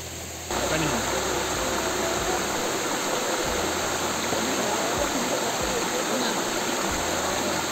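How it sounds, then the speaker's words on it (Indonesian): A waterfall on Mount Salak roars in a loud, continuous broadband rush close by, steady after a brief quieter opening, with faint low thumps beneath. "Terus kita udah mencapai air terjunnya, kita puas banget."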